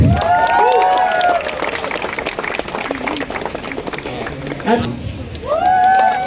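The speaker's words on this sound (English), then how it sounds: "Clap guys, clap." A crowd at a race awards ceremony applauding for the 10 kilometer winners, a dense steady clatter of clapping heard under a loud voice on a public address system.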